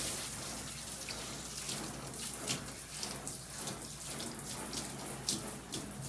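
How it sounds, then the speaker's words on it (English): Water runs from a bathtub faucet and shower as a tub is rinsed, a continuous hissing spray with splashes and patters striking the surface, steady and close. "turns on the bathtub faucet, then pulls the knob to switch to the shower"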